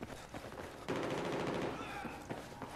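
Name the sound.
gunfire in the video game Battlefield 4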